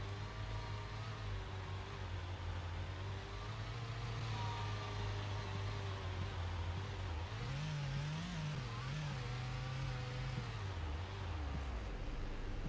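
A bus engine in the Roblox game Blackridge RP drones steadily while driving, a continuous low hum that rises and wavers in pitch midway before settling back down, with no voices.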